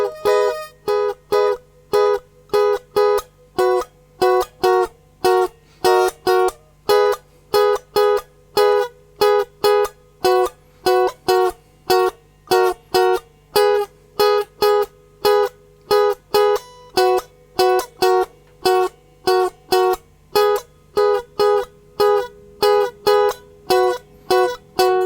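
Electric guitar playing the repeating lead riff of a song, sounding as steady, evenly spaced plucked notes in a bright, looping pattern, close and clear with no talk, loosening a little toward the end.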